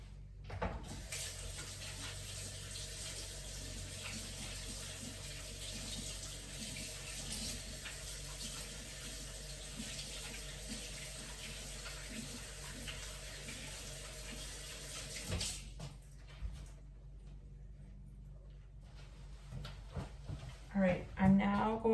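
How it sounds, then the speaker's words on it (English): Water runs steadily from a kitchen sink tap for hand washing, a continuous soft hiss for about fifteen seconds before it shuts off, leaving quiet room sounds and faint clatter. "now I'm gonna go wash my hands"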